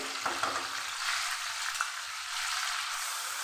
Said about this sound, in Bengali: সমস্ত মশলাকে আমি খুব ভালো করে কষিয়ে নেব